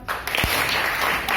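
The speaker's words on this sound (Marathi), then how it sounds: "टाळी कशी वाजवतात? एक टाइम वाजवा." A group of children claps together in a brief, fairly loud burst of overlapping hand claps that runs evenly through the moment.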